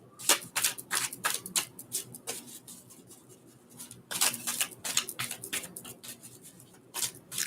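Cards being shuffled in quick riffling bursts, with short pauses between rounds, close and crisp with no talking.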